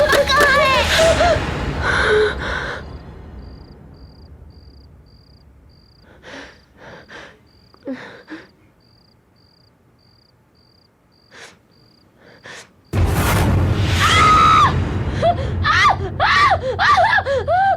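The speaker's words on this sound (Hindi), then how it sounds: "तुम ऐसी चीखी क्यों?" A woman screams in fright in a deserted villa in a horror drama, the shrill cry bursting in loudly at the start and again after a quiet stretch of faint ticks, with insect-like chirping in the background.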